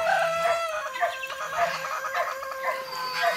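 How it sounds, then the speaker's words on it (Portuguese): Chickens in a farmyard flock cluck repeatedly, with a rooster-like crowing call, close and clear, with no talking. "Tá aparecendo as galinhas aqui, né?"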